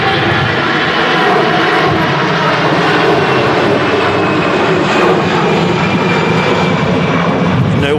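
An airliner in SkyTeam special livery climbs steeply out of Manchester Airport toward Paris Charles de Gaulle during storm-force crosswinds, its engines a loud, steady, close roar mixed with wind noise throughout.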